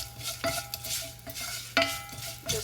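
A tablespoon of fennel seeds being stirred in a pan while cooking sambar, with a few distinct scraping clinks of a utensil against the metal over a soft background sizzle.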